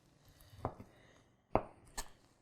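A Mikarto Damascus chef's knife slices through stir-fry ingredients, giving three crisp, separate cuts against a board, each a quiet sharp knock with near silence between.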